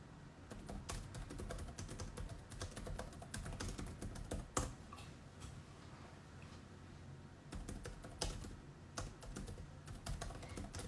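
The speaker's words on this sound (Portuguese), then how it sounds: "Gente, tô aqui só digitando" Fingers tapping steadily on a computer keyboard during a live online broadcast, a faint, quick patter of keystrokes with occasional louder clacks, heard alone without speech.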